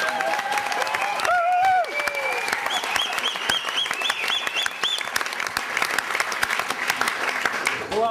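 Audience applauding at a Swiss gymnastics club evening show, sustained clapping from a large crowd with whistles and shouted cheers rising through the early part, continuing steadily to the end.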